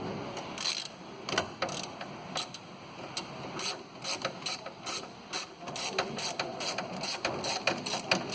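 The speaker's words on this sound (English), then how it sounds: "with the long extension, we'll just open this wheel hub bolts" A ratchet with a long extension clicks rapidly and repeatedly while loosening the wheel hub bolts on a Hyundai i10, the mechanical ticking in steady bursts over a faint background hum, close and moderately loud.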